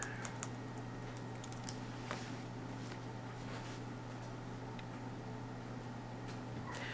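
Search terms typed on a computer keyboard: a run of light, close key clicks with uneven rhythm over a steady low fan hum, no talking.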